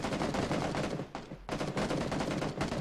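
Rapid bursts of video game gunfire, loud and dense, crackle in repeated volleys with a brief lull in the middle before the shooting resumes.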